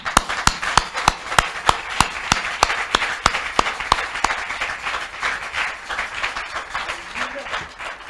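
Congregation at a night prayer service clapping in a steady rhythm, sharp claps repeating about every half second over a broad wash of crowd noise and voices.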